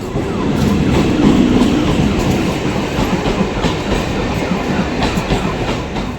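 A train rumbles steadily nearby at a station, with a continuous rolling roar and occasional faint rhythmic clacks from the wheels, and no voices.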